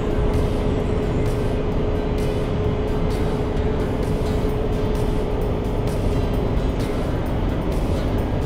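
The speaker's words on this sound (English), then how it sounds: "You see here the car is climbing." Steady, loud engine drone with a constant tone from a 2025 Subaru Forester Touring climbing a mountain road at about 3,100 RPM, heard from inside the cabin with road rumble beneath.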